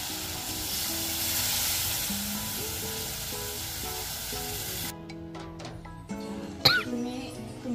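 A glass of water is poured into a hot pan of village-style double beans gravy thickened with crushed peanuts. It makes a loud, steady sizzle that breaks off after about five seconds, followed by light clinks and faint stirring.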